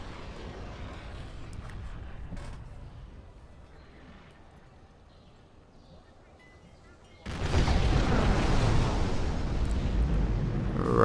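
A grenade barrage in the Generals Shockwave mod: a low rumble gives way to a sudden, sustained roar of massed explosions that stays loud until the end.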